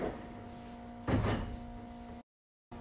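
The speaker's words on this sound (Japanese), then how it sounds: "ドアが閉まります。" Shizuoka Railway Shizuoka-Shimizu Line local train doors sliding shut with a brief rumbling thud over a steady hum of the carriage, followed by a short cutout to silence.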